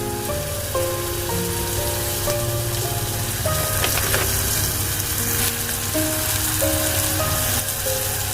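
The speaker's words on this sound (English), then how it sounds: "Oil is overflowing. Now I am adding frozen okra," Frozen okra hits hot oil in a pan and sets off a loud, continuous crackling sizzle like heavy rain, with a melodic tune playing underneath.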